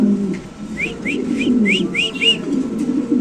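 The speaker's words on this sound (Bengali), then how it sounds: "এখানে আছে একটা কালো মুন্ডিয়ান কবুতর" Fancy pigeons, including a black Mundian, call with a quick run of about six short rising whistly notes over a low, murmuring coo in a pigeon loft.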